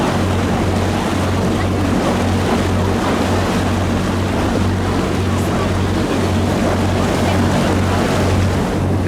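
A small private motorboat's engine drones steadily as it passes at sea near the Needles, over wind and rushing water, a constant low hum with no voices.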